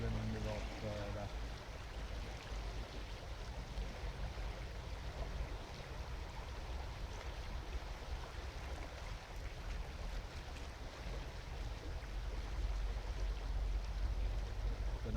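River water flowing past a salmon angler's rod as the current pulls on the line, a steady broadband rush at low level that holds unchanged from start to finish.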